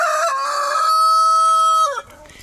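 A rooster crows once, loud and close, a long drawn-out call that holds its pitch before breaking off abruptly.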